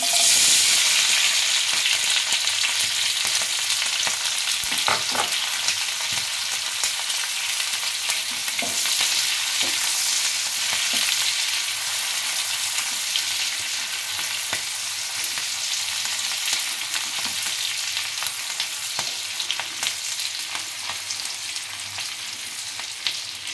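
Cubed onions frying in oil in a pan for chilli bhetki fish, a loud, continuous close sizzle with occasional stirring and no talking.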